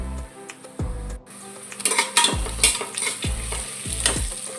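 Cashews and onions frying in hot oil in a pan, a bright steady sizzle punctuated by repeated scraping stirs and clanks of a spoon against the vessel, close and without voices.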